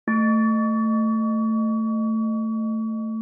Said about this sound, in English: And finally, QING or chime bowl.